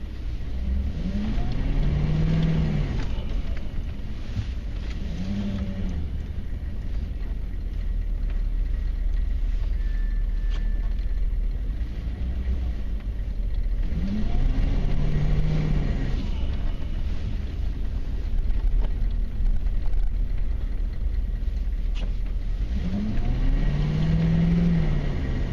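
A 1994 Chevy Silverado K1500 with a 6.5L turbo diesel drives sideways on a slippery surface, its engine droning steadily with rising and falling surges as the truck drifts, loud and continuous, with faint voices underneath.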